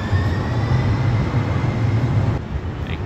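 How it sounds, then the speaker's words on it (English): Rumbling train noise near Oracle Park station in San Francisco, a steady low rolling drone with faint high squeal that continues for a few seconds and drops slightly near the end, with no talking. "got off the train at Oracle Park"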